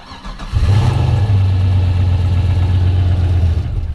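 A turbocharged Chevrolet S10 truck engine cranks briefly, then catches and settles into a loud, steady running idle, close to the microphone.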